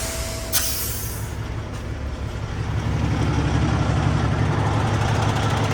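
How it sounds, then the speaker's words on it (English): Semi truck dumping its air suspension with a sharp hiss, followed by a steady diesel rumble that swells slightly as the tractor pulls clear of the dropped trailer, heard close up. "Drop our airbags, release our tractor, and we slide right out from underneath it"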